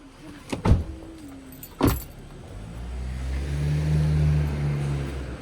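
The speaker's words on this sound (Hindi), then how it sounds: "गाड़ी आ रही है" A car draws near on a street, its engine rumble building steadily from faint to fairly loud, after a couple of sharp clunks like a car door closing.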